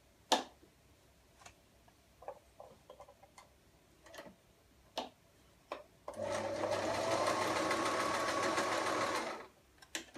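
A sewing machine stitches the bill of a handmade platypus toy in one steady, loud whirring run of about three seconds, preceded by scattered light clicks and taps of handling.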